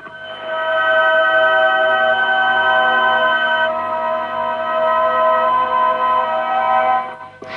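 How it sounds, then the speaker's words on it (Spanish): Strange sustained tones played from crop circle shapes transcribed into sheet music, a steady organ-like chord of layered pitched notes held for several seconds, one upper note dropping out midway, ending in a soft click. "eso es el sonido de estas figuras pasadas al papel de la partitura"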